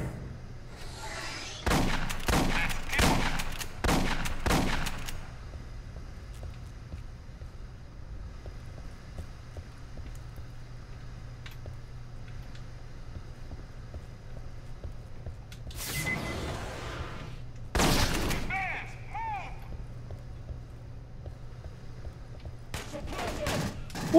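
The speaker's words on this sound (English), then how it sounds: "Both ships are firing at each other." Bursts of gunfire from warring ships in the Aliens: Colonial Marines video game: rapid volleys cluster in the first five seconds, then a low rumbling lull, with two more loud bursts around sixteen and eighteen seconds over a steady hum.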